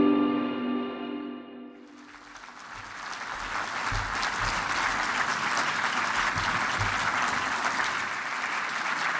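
A large audience applauds conservation award finalists at a formal ceremony, sustained clapping rising after a brief musical tail and continuing steadily and loudly to the end.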